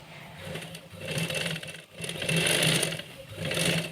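A sewing machine stitches lace onto a trouser in loud, continuous whirring runs, briefly pausing near the middle before speeding up again, with no talk.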